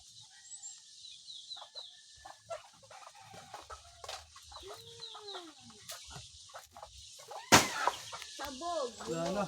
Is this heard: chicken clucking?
yes